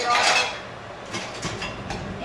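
A metal lid goes onto a cooking pot of rice on a home stove, giving a clattering clink and rattle of pots and utensils that settles into lighter scrapes and taps, fairly close, with no talking.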